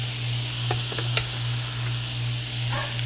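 Butter sizzling in a pan for a Cajun-seasoned shrimp dinner, a steady soft hiss with a low hum beneath and a few light clicks of a utensil.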